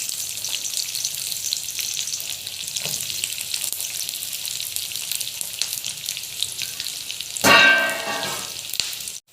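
Onions hit hot oil in a pan for khushka chicken rice, with a steady background sizzle that swells into a loud, crackling burst near the end before settling again.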